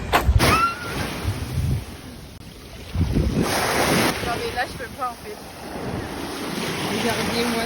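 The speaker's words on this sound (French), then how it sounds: "Regardez-moi ces vagues." Sea waves break and wash onto the beach near Villeneuve on the French Riviera, a loud rolling surge under heavy wind buffeting the microphone, with brief voices in between.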